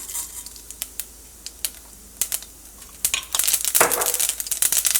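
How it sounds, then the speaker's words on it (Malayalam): Mustard seeds popping and spluttering in hot oil: scattered sharp crackles at first, building into a dense, rapid crackle. "ഫസ്റ്റ് കടുക് പൊട്ടിക്കാം"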